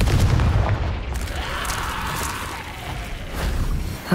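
In the Hogwarts Legacy video game, a Confringo spell blast opens with a heavy low boom, followed by a sustained rumbling roar and a sharper burst near the end.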